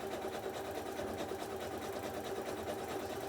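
A sewing machine runs steadily while stitching a clothesline bowl, producing a continuous close mechanical whir with an even rhythmic hum and no pauses.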